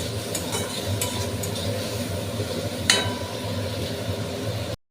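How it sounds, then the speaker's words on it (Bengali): Tomato stirred in a pan with onion for a spicy crab curry, a close, steady scraping stir over a faint low sizzle, one louder clink of the utensil partway through, no voices, cutting off abruptly at the end. "তো টমেটোটা দিয়ে একটু ভালোভাবে নাড়াচাড়া দিয়ে নেব"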